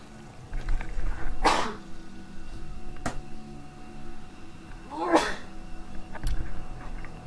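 A single sharp sneeze bursts out up close during a StarCraft tournament commentary, followed a few seconds later by a second sneeze-like burst, both standing out over quiet background hum.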